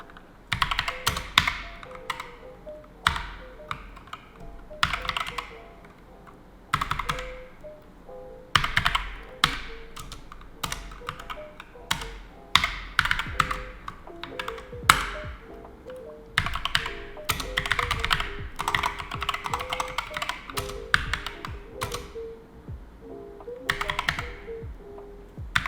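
Typing code on a computer keyboard, with a close, steady stream of irregular key clicks and taps in quick bursts and short pauses, no talking.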